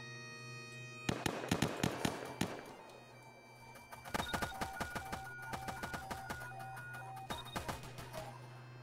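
Rapid bursts of gunfire from a Tech-9 in Roblox, sharp cracking shots in two clustered volleys separated by a short pause, moderately loud over a steady hum.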